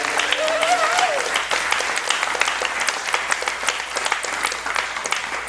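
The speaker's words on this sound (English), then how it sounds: "And then we clap." Applause from a church congregation during a sermon, dense sustained clapping that fills the whole stretch at steady loudness, with a brief sung or spoken voice line near the start.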